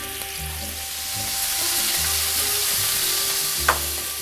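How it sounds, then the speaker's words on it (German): Meat for Szegediner goulash sears in two hot pans, a steady close sizzle and crackle of frying with a faint stirring scrape, no voices. "Scharf anbraten?"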